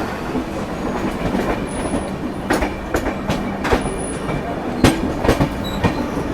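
The Kalinga Utkal Express, running from Yog Nagari Rishikesh to Puri, rolls past with a steady clickety-clack of wheels over rail joints, carriage rattle and brief high squeals, loud and close.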